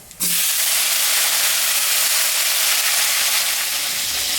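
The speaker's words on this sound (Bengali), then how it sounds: "একটু বেগুন আমি ভাজে নিচ্ছি" Eggplant slices hit hot oil seasoned with dried chili and nigella seeds, left over from frying fish, bursting into a loud, steady, dense sizzle that continues evenly, heard close and with no talking.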